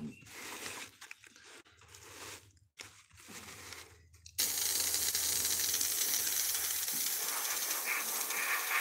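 Clogged airbrush used for making Slipknot masks in a garage: scratchy, sputtering noise gives way to a loud, steady stream of air hiss that continues to the end.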